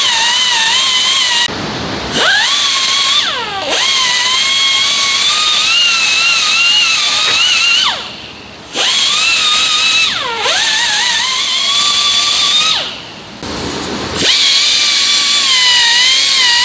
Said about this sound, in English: Ream in that hole.